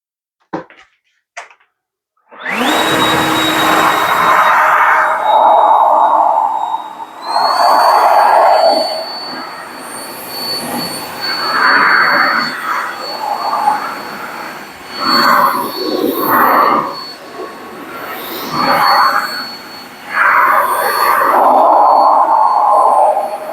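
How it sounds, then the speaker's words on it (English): A powerful air blower dries a car after a touchless wash: a loud roaring rush with a high whine kicks in after brief clicks, sustained for a long stretch and swelling and dipping as it moves around the car. "let's blow dry it off and see."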